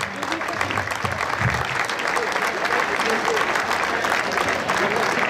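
A crowd applauds President Soteras of CE Puig-reig football club at a team presentation and veterans' tribute, a steady, full round of clapping with faint voices murmuring underneath.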